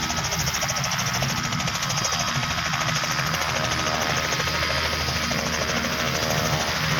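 A helicopter drones steadily overhead at a rural spot in Sto. Tomas, Batangas, its rotor chop and engine whine forming a loud, continuous wash with no voices in the foreground.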